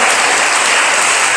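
Church congregation applauding together, loud and continuous, a dense wash of many hands clapping without pause.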